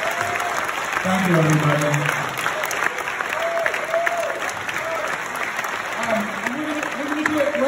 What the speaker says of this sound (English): let's give a big round of applause for everybody